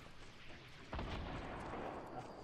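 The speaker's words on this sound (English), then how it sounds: "I've got a bloody grenade launcher." A grenade launcher in Fortnite fires, and a sharp, loud boom lands near the one-second mark, followed by a rumbling tail over steady background game noise, with no talking.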